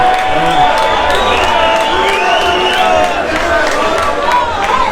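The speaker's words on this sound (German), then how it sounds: "Ein Applaus" A crowd at a village festival concert in Allschwil claps and cheers together, with whoops and voices mixed into the steady roar.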